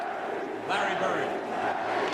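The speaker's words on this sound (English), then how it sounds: "And they cheering for him loud as hell." A basketball arena crowd roars for Larry Bird, a broad sustained cheer that swells louder partway through, with a voice talking over it.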